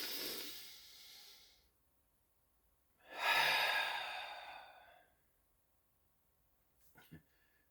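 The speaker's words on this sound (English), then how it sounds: "If you're if you're human and you know it, take a breath" Two breaths, near and alone: a long exhale at the start, then a louder, fuller breath a moment later, followed by a short soft snort or click near the end.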